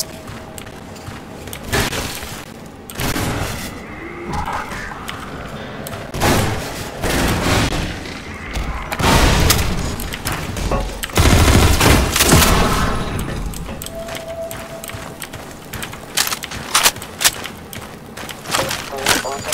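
AR-2 rifle gunfire in the video game Half-Life 2 crackles in dense bursts and scattered shots, loud and continuous with thumps and booms mixed in.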